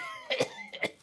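A person coughs twice in quick succession during a hospital respiratory health lecture; the short, rough bursts are fairly quiet, each about a tenth of a second, with no speech over them.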